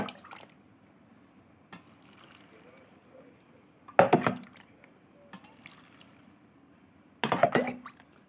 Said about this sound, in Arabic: نملى بقى البطرمان على اخر الميه